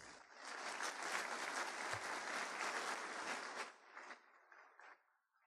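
Audience applause at the SET EXPO 2016 opening ceremony in Brazil, a steady burst of clapping from a crowd that fades out over a few seconds, fairly quiet and heard alone.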